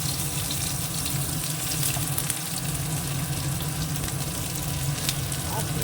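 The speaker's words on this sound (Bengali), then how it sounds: "এবার তেলের মধ্যে দিয়ে দেবো হচ্ছে শুকনো লঙ্কা আর দিয়ে দেবো হচ্ছে এই যে রসুন খেতো করা" Dried red chili and chopped garlic fry in hot oil with a steady, close sizzle and a faint watery crackle, continuous with no talking.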